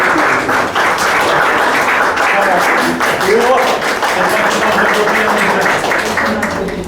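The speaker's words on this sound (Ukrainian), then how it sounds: "Оплески." Steady audience applause fills a photography festival award ceremony in Lviv, dense clapping holding at an even level throughout without a break.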